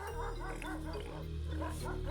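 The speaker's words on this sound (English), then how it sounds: "their hounds chased a white boar into a castle" Hounds bark while chasing a white boar, a cluster of yelps and bays sounding under steady narration and background music.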